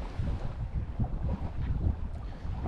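A sailboat under way on a solo passage, with steady wind rushing and low, churning water noise around the hull, constant and fairly quiet, with no one speaking.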